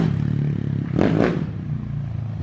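Modified 287cc motorcycle engine revving hard on a street, a steady loud mechanical drone with two sharp throttle surges close by, rough and clattering, no talk over it.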